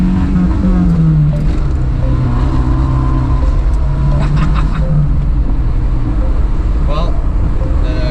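A right-hand-drive 1981 Honda Accord with a weak master cylinder drives along, its engine humming steadily and loud up close, pitch rising and falling with gear changes, with faint road rumble and occasional clicks.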